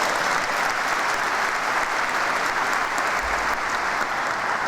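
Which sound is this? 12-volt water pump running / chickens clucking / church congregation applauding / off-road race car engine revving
church congregation applauding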